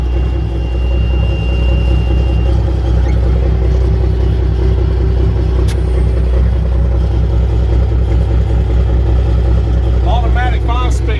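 An M923 5-ton military truck with a 14-liter Cummins inline-6 and Allison automatic drives along, its steady loud diesel rumble and whir filling the cab, with people talking over it.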